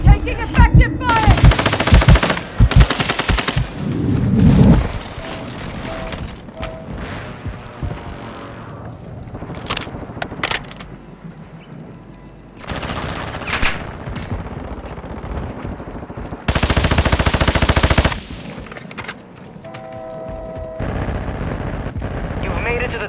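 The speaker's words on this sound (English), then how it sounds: "Requesting close air. Target marked. Taking effective fire." Gunfire in the battle royale game Warzone 2: bursts of automatic weapon fire, heavy booms and explosive blasts throughout, with scattered single shots and a stretch of steady roaring, mixed with game voice lines.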